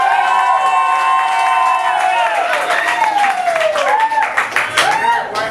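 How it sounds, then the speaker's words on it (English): A comedy club audience at The Laughing Skull Lounge claps and cheers for a comedian taking the stage, with whoops and whistles over steady applause that turns choppier toward the end. "I feel like you guys went a little too crazy on the applause."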